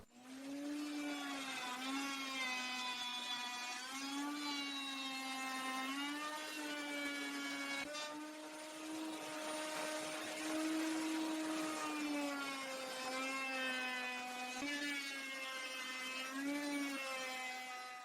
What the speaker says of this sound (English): For this small barrel we need to bevel the edge of the bottom on both sides.